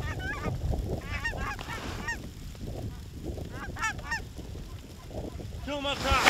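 Specklebelly geese honking repeatedly during a waterfowl hunt in a blizzard, with overlapping calls in several bursts over constant wind and outdoor noise.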